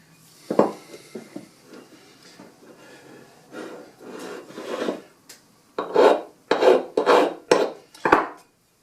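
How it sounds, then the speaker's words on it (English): A hand file rasps along the edge of a 1911 pistol, starting with scattered light strokes and then settling into a run of loud, rhythmic close strokes. "it's easy to hold it at 45 and file it this way"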